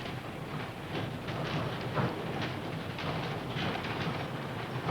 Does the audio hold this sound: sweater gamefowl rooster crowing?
no